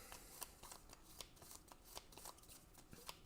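Cards from the Terraforming Mars Ares Expedition board game being shuffled in quiet, repeated riffling bursts at close range, with no other sound.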